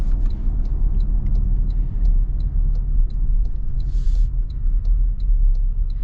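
A lifted 2024 Toyota Tacoma pickup driving on the road, heard from inside the cab: a constant, loud low rumble of road and engine noise with faint regular ticking clicks above it.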